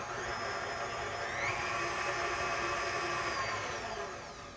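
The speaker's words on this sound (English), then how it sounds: "I'm going to just drop that into the stand mixer. Drop the lid and give it a quick blend." A stand mixer whirs at high speed blending butter, a steady close motor whine with a pitch rise partway through, fading slightly at the end.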